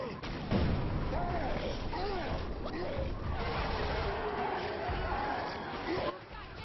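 Tank in a video game being hit by fire, with crackling, booming gunfire and dull impacts over steady noise, under excited voices of players talking.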